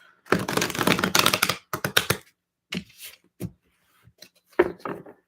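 Tarot cards are shuffled in quick riffling bursts, followed by a few separate soft taps and clicks, close and dry.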